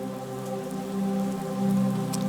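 Rain sample layered into an ambient soundscape, a steady wash of falling drops beneath sustained tonal pad and piano layers, held at an even, moderate level without a break.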